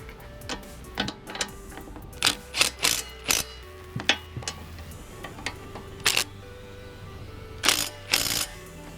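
Sharp metallic clicks and ratchet ticks from a wrench tightening the rear brake caliper bracket bolts on a 1992 Honda during a disc brake conversion, coming in short irregular clusters against a quiet garage background.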